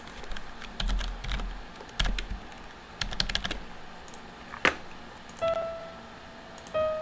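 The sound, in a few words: typing on a computer keyboard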